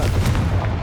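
A Confringo spell blast in Hogwarts Legacy erupts as a short, heavy boom with a rumbling low end, loud and close, alone without voices.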